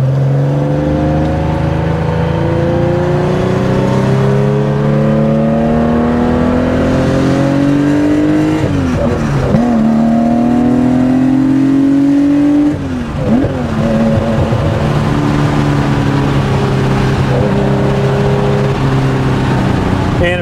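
A 1972 Porsche 911 T 2.8L EFI engine revs up and down repeatedly, steady and loud, pitch climbing and falling in sweeping waves with a brief dip near the end.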